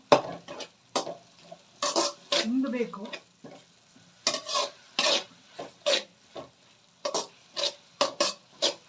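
Tomatoes cook in a pan for a tomato gojju while a spoon scrapes through them in quick, rhythmic strokes, each a short rasping burst over a faint background sizzle.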